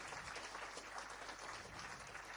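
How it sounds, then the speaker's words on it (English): A faint, distant burst of applause plays on a live cello stream, a continuous wash of clapping, low in level and steady for a couple of seconds. "Hey, thanks for the applause."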